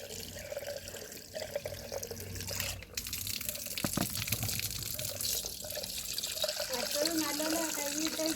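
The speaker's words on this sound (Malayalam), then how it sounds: "കുറച്ച് വെള്ളം ഒഴിച്ച് കൊടുക്കുക" Water poured from a tap over squid being cleaned for a fish dish, a steady running splash throughout with someone talking over it.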